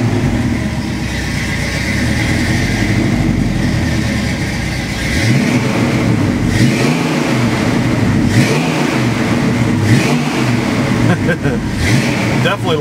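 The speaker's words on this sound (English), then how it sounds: "fire this little pony car up" A 1966 Mustang GT-350 recreation muscle car fires up and revs, its engine rumbling loudly and steadily throughout, with rising throttle blips in the second half that rock the car.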